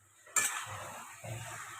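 Marinated chicken being stir-fried and braised in a pan on a gas stove for butter chicken: a sharp scrape of a utensil against the pan, then a steady sizzle with further stirring scrapes, close and moderately loud, no voices.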